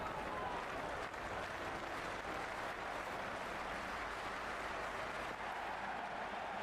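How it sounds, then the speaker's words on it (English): A stadium crowd cheers and applauds at a cricket match in the video game Cricket 26, a dense, steady roar that holds at constant volume throughout. "the ball hasn't even been bowled yet, and this crowd is already making it hard for me to be heard"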